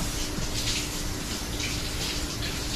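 A squash is washed under a running kitchen tap, giving a steady, close gush and splash of water throughout with no talk.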